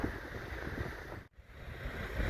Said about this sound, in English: Wind is picking up pretty good,